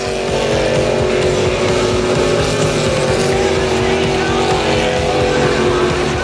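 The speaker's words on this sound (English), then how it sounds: "The first heat of circuit racing featured the 4 CX boats of Clayton Woolsey, Riley Chittle, Josh Inma" Powerful CX-class circuit racing boat engines roar continuously at high revs, loud and close, a dense droning growl with no pauses.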